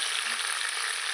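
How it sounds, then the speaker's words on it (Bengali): Chicken pieces fry in hot oil, giving a close, even, continuous sizzle with no pauses over a short stretch. "মাংসগুলো আমি ভালো করে ভেজে নিয়েছি লাল লাল করে"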